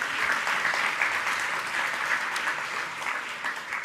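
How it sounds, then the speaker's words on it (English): Warm applause from an audience at an EU research area conference on gender equality, a steady dense clapping wash that stays loud and even throughout with no voices over it. "You can give them all warm applause."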